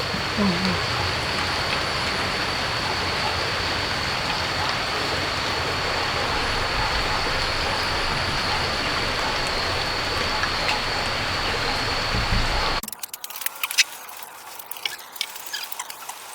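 Steady, dense rain falls continuously on a rural Vietnamese village, a loud even patter that runs for most of the clip and then stops abruptly, leaving a quieter background with scattered small sounds.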